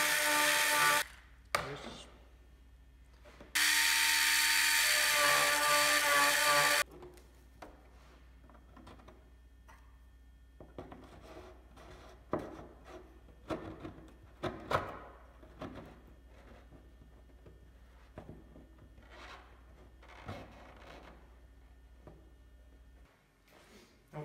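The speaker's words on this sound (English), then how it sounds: "It almost fits, but not quite. So I'm going to sand it." Hand sanding of a wooden model airplane part to make it fit a hole: two loud bursts of rasping abrasion early on, then lighter intermittent scraping and tapping, with a brief spoken word.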